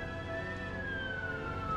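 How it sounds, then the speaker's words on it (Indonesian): A wailing ambulance siren holds a sustained tone that slowly falls in pitch, heard at moderate distance over low background rumble. "itu kok ada ambulan"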